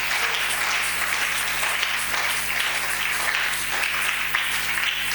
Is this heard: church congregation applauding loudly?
yes